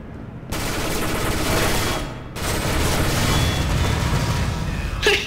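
Rapid automatic gunfire from a weapon in a video game, loud sustained bursts with a short pause in between and a sharp crack near the end.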